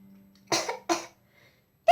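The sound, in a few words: cough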